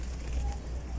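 Racing pigeons coo softly and low, a steady murmuring drone close by with a faint background voice, lasting about a second.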